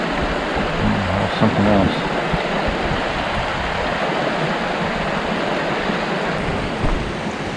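Creek water flowing steadily in Southern California, a continuous close rushing and burbling wash with a brief spoken phrase near the start.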